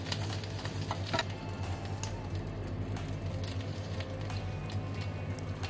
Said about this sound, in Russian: на сухой сковороде обжариваю бекон и выкладываю на салфетку